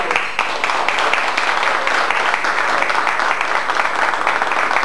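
Diners at a reunion dinner give a strong round of applause for the people who cooked the meal, loud and close, a dense continuous clatter of many hands that holds level throughout.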